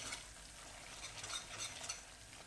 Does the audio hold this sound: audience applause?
no